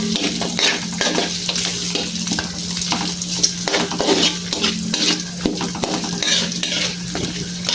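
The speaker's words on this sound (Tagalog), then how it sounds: "Gisa ko lang itong leftover namin na bagnet kagabi." Leftover bagnet and garlic sauté in a pan, a steady sizzle broken by frequent scraping stir strokes, close and moderately loud throughout.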